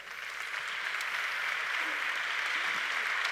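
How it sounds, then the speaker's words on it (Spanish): Audience applause for panel guests taking their seats at a talk show: a steady, continuous wash of clapping that swells slightly and holds at an even, moderately loud level. "Un aplauso para ellos."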